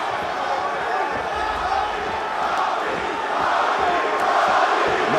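An arena crowd at a UFC fight between Robbie Lawler and Colby Covington roars in a steady, loud wash, rising toward the end, under a commentator's voice.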